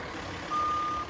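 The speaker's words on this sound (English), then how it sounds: "First off, the trucks drive out." A public works truck at a high school hockey rink area, heard as a steady low engine rumble with a single sustained reversing beep tone rising over it, close and continuous for about a second.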